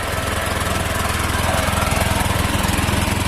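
Honda Click 125 V3 scooter engine idling before an oil change, a close steady rapid mechanical chug with even pulsing rhythm, continuous and fairly loud, no voices over it.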